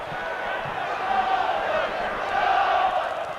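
Rugby league crowd at Valley Parade in Bradford, a broad roaring murmur of a large stadium audience with swelling shouts, steady and loud throughout.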